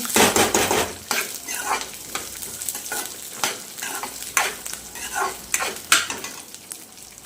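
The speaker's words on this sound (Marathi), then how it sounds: "आता हे तेल घालते जरा दोन मिनटं परतून घ्यायचं" Curry leaf chutney ingredients sautéed in oil in a pan, with close, frequent scraping and clanking of a spatula against the metal over a continuous sizzle, loudest at the start.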